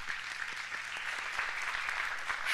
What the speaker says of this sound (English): That's another round of applause there for that.